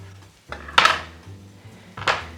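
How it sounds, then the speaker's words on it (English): A knife cuts down the middle of a squash on a board, making two dull cracking chops about a second and a half apart, close and fairly quiet. "Now I'm going to take my knife and I'm going to cut it down the middle."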